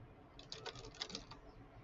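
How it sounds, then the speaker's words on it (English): Quiet keyboard typing at a computer, a short burst of soft clicking keystrokes in the middle, faint and close against a low background hiss. "if I start typing text"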